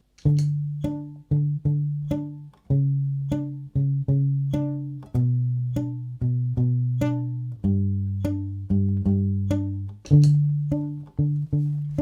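Palm-muted electric guitar riff, looped with a pedal: short, damped plucked notes in a steady repeating rhythm, clear and alone, the pattern shifting pitch across several bars.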